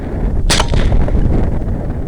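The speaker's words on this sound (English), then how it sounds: "I shoot" A single loud, sharp rifle shot at a wild hog during a night hunt in Bosque County, Texas, with a sudden crack followed by a brief rumbling decay over outdoor background noise.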